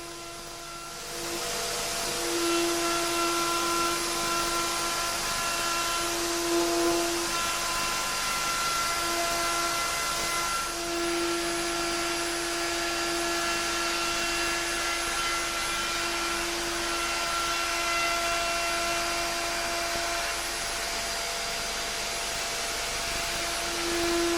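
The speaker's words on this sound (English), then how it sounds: "Using the optional profiling top guard and a trimming cutter, plastic laminates can be cut accurately." A router fitted with a trimming cutter and profiling top guard runs while cutting plastic laminate, a steady high-pitched motor whine with a constant tone, close and sustained throughout.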